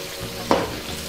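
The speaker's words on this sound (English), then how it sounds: "Get the sauce in there. And get that to a boil. Give it a good mix" Mongolian beef sauce coming to a boil in a pan and being stirred, a steady sizzling bed with one brief louder stir or splash near the middle, no talking.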